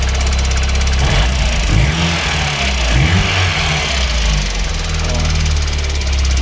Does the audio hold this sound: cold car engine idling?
yes